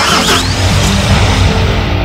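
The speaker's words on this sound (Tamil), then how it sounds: "இப்போ வண்டியை ஸ்டார்ட் பண்ணிக்குவோம்." A Chennai town bus engine starts in Euro Truck Simulator 2, a loud, dense, steady engine rumble filling the whole moment with no talk.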